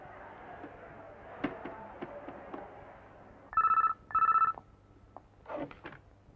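A telephone rings in two loud, evenly spaced electronic bursts, followed by a shorter third burst, over a quiet indoor room with faint shuffling and background murmur.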